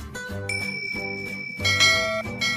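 A subscribe-notification bell effect rings clear, bright tones over a short musical jingle, with two sustained chimes sounding close and loud with no talk.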